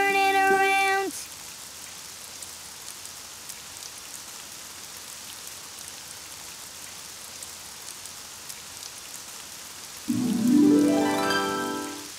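Steady rain falls outside in an animated children's show, a continuous soft hiss lasting several seconds between short musical tones at the start and end.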